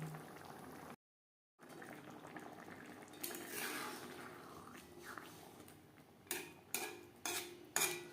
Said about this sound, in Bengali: গ্রেভির সাথে মাছ বেশ ভালো করে মিক্সড করে দেওয়ার পর তিন চার মিনিট রান্না করে নেব